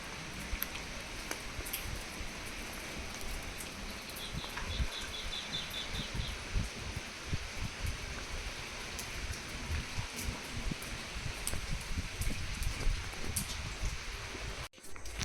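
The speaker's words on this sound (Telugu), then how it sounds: "వర్షం అయితే ఫుల్గా పడుతుంది." Heavy rain falling outdoors, a steady broadband wash with scattered patters and rustles that holds evenly throughout, ending with a brief sharp knock.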